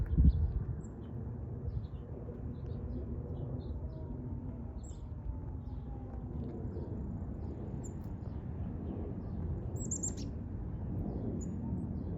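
Faint, scattered bird chirps sound in the distance in New England in spring over a steady low rumble, like a plane or distant traffic.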